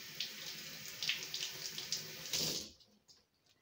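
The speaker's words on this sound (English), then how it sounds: "So fill in with water." Tap water runs steadily into a sprouting jar of alfalfa sprouts for about two and a half seconds, a close hissing splash that stops abruptly and leaves near silence.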